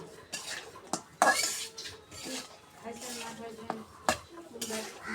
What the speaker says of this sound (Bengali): সুন্দর করে এভাবে লাড়ে চাড়ে সুন্দর করে কষে নিব